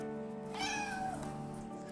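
A cat meows once, a rising-and-falling harmonic call standing clearly above a steady background hum, with no talking.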